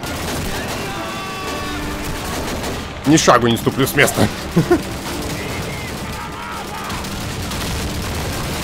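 Gunfire and explosions in the Call of Duty 2 war game: a dense cluster of sharp shots and bangs over a few seconds amid steady battle din, with someone talking over it.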